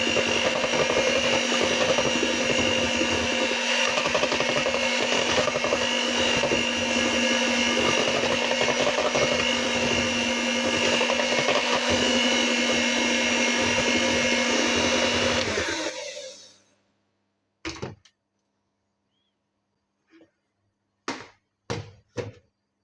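An electric mixer runs steadily for about sixteen seconds through corn cake batter in a Brazilian-style recipe, then cuts off, leaving a few sharp clicks and knocks in the quiet afterward.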